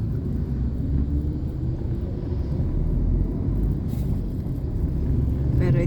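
Steady city street traffic rolls by, a continuous low rumble of cars and engines passing at moderate distance without a break, with no voices standing out.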